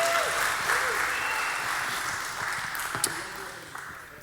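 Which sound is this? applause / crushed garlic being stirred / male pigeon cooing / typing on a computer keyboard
applause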